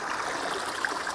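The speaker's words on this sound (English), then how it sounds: "I'm able to actively collect this water as it's falling off the rocks before it hits the pool below." Water spilling off rocks into a pool below in the outdoors, a steady broadband rush and splash that holds evenly loud for the whole stretch with no talk over it.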